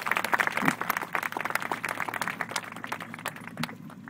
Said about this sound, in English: So let's give Miss Hattie another round of applause,